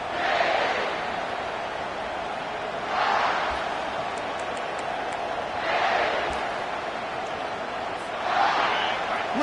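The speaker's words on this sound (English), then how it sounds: "Listen to the crowd energy here in the early going." A stadium crowd at a Miami Hurricanes football game roars in a broad, distant wash, swelling in waves about every few seconds over a constant murmur.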